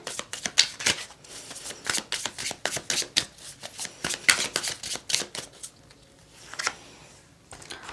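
Tarot cards are shuffled for a reading in rapid bursts of riffling and flicking, close and crisp, with brief pauses between runs and a softer final few seconds, no speech.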